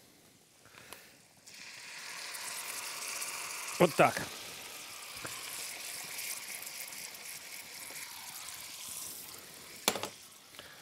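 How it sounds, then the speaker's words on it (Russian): Lemon juice poured into hot browned butter with fried parsley, sending up a sizzling hiss that flares with a few sharp bursts and then settles into a steady fry while someone talks over it. "теперь я выливаю сюда лимонный сок."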